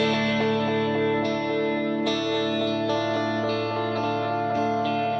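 A sustained tone runs through the Echo Cube acoustic delay effect on iOS, set to serial mode, with repeating echoes and smeared, chorus-like tails that hold steady and dense throughout, alone and fairly loud.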